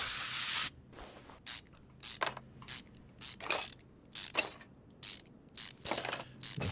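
Rapid bursts of a ratchet wrench spinning off grimy, rusted bolts in Car Mechanic Simulator 2021, each short metallic whirring run separated by brief pauses, close and clear with no talk.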